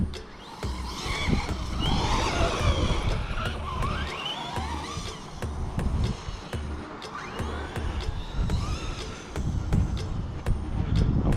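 Traxxas Hoss 4x4 RC truck with a Castle ESC and 18T pinion running at wide open throttle outdoors, a steady buzzing electric motor whine with tire and gravel scrabbling, fairly close.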